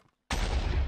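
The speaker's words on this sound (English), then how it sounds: "Sounded like an explosion." A sudden explosion in the Minecraft video game bursts in after a brief quiet, a loud, sharp blast whose rough roar carries on to the end.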